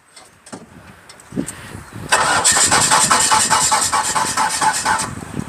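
A 2.5-ton automatic forklift's petrol engine, also set up to run on gas, cranks a few times, catches and roars to life, then settles into a steady, loud idle.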